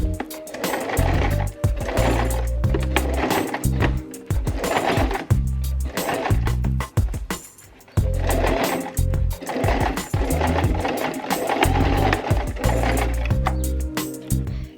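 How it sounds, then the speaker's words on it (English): Domestic sewing machine running a straight stitch along the middle of a fabric scrunchie, a loud, fast rhythmic needle chatter in long runs with a short pause midway, no voices. "And then sew a straight stitch along the middle to close it up."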